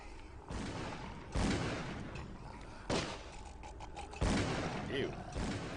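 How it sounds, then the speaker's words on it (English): Gunfire in Call of Cthulhu: Dark Corners of the Earth, several heavy booming shots spaced a second or two apart over a constant rumbling in-game background. "going upstairs where the gunshots are"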